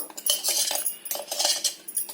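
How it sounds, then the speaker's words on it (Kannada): Peanut chutney is served onto a plate with a spoon, giving a few close, light metallic clinks and scrapes against the dish in quick succession. "ಈ ನೋಡಿ ಒಂದು ಪ್ಲೇಟಿಗೆ ಸರ್ವ್ ಮಾಡ್ತಾ ಇದ್ದೀನಿ ನಾನು"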